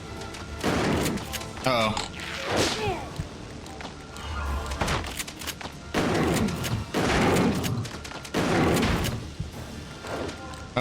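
Gunfire bursts in Resident Evil: The Darkside Chronicles, a zombie shooter game, loud repeated shots and slam-like impacts scattered across the stretch, heard under excited talk from several players.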